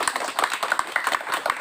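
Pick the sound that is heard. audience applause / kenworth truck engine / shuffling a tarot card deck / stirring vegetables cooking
audience applause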